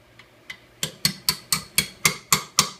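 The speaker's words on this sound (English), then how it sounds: "get you a little hammer and a pin, and you're just going to drive them out" A small hammer taps a punch to drive pins out of a Remington 870 12-gauge shotgun, giving about ten sharp metallic strikes. The first few are light and the rest are steady, evenly spaced and close.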